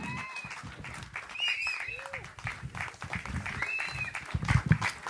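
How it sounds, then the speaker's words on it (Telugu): An audience claps loudly to welcome director Uday Chauhan onto the stage at a film event at Annapurna Studios. The applause is steady and close, with voices talking over it throughout. "గట్టిగా చప్పట్లతో వేదికపైకి ఆహ్వానం పలికేద్దాము"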